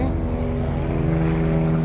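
Steady aircraft engine drone passing low overhead, a continuous loud hum with layered low tones and no pause across the short stretch.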